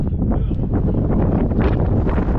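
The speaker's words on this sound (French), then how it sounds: "Oh putain, la rafale là, elle fait peur." Strong gust of wind buffeting the microphone on a rocky mountain ridge at about 3000 m, a continuous loud roaring rush with no pauses, heard alone.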